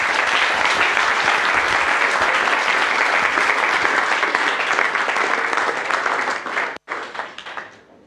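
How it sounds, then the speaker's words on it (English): A conference audience at a Python event in Italy claps after a talk, a loud sustained round of applause lasting several seconds, with a brief dropout near the end before the clapping resumes and fades. "let's give a round of applause"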